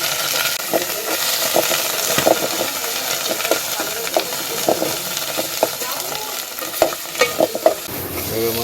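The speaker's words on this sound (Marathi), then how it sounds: "भाजून घ्यायचा पहिला हा मसाला व्यवस्थित तेलामध्ये परतून घ्यायचा आहे" Goda masala frying in oil in a home kitchen while it is stirred: a steady sizzle runs throughout with intermittent scraping clicks of the spoon against the pan, which grow sharper toward the end.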